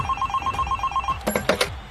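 A cartoon telephone rings in a rapid electronic trill, then a few sharper clattering tones, close and clear in an animated India versus Pakistan cricket comedy.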